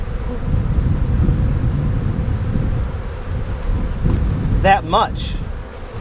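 Honeybees buzz around a split hive in a dense, continuous hum, close and fairly loud, with brief bursts of nearby wingbeats and a few spoken words.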